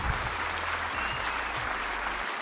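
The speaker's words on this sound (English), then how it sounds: "We're getting claps." A crowd claps at the draft in a Madden NFL video game, steady and dense applause filling the whole moment with no voices over it.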